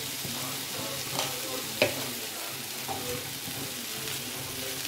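Quiet sizzling of brinjal curry frying in a pan as tomato pieces are stirred in, with a continuous soft hiss broken by a few light scraping stirs.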